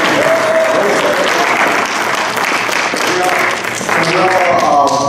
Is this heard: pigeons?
no